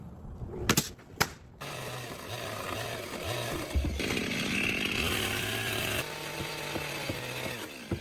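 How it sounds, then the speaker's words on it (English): A chainsaw trims the excess from an OSB board along a marked line at an outdoor refuge build, a steady loud engine drone running almost continuously after a few sharp knocks at the start. "They are cutting off the excess parts of the OSB board with a chainsaw along a precise line"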